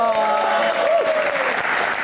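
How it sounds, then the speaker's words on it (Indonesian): Studio audience of university students applauding on a televised talk show, a dense burst of clapping heard under a voice speaking over it. "kita berikan tepuk tangan paling meriah untuk rekan-rekan mahasiswa yang ada di studio"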